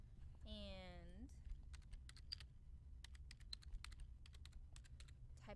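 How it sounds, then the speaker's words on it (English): Fingers type on a computer keyboard in quick, uneven bursts of soft clicks, quiet and close, after a brief rising electronic chirp at the start, over a low steady room hum. "type in the title"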